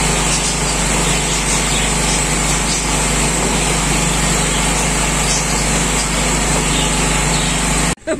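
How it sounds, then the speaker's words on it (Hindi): A generator runs outside a home, giving a loud, steady, buzzing engine drone that continues without a break, then cuts off abruptly near the end. "बाहर जनरेटर चल रहा है"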